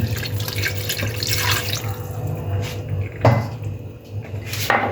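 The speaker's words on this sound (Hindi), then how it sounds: "चिकन धोकर हमने उसमें 1 गिलास पानी शामिल किया।" A glass of water splashing and trickling into a pot of washed chicken, with faint clinks of cookware and bursts of running water.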